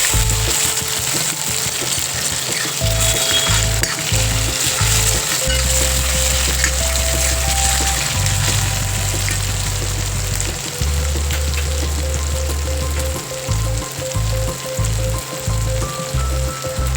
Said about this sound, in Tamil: அடுத்தது நான் வந்து ஒரு தக்காளி கட் பண்ணி வச்சுட்டேன், அதையும் சேர்த்து நல்லா வதக்கி விடுறேன்.